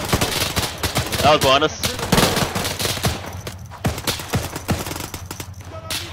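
Bursts of automatic gunfire and sharp rifle shots crack through a firefight in the military shooter Arma 3, loud and irregular, with squad members talking over the shooting.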